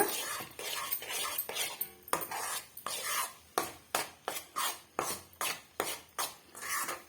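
A spoon stirs a thick laddu mixture in a pan over medium heat with no oil. It makes a close series of rhythmic scraping strokes that become steady and evenly spaced as the stirring continues.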